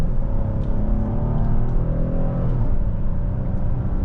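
A 2026 Hyundai Palisade Calligraphy accelerating from a stop toward 60 mph, heard from inside as a steady low engine drone and road rumble with a rising whir, no talking.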